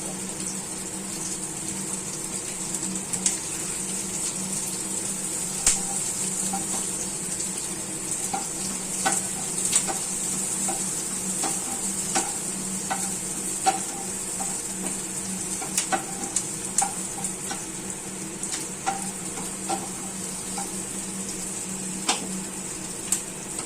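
Onions sizzle in oil in a kadai-style frying pan for chicken do pyaza, a steady crackling fry punctuated by sharp clicks and scrapes of stirring, with no voices over it.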